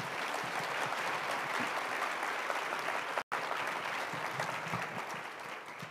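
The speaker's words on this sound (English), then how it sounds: "Let's give another round of applause here for Eric" A plenary audience at a conference keynote session claps steadily and densely for Eric, a sustained wash of applause at even volume, with a momentary dropout in the middle.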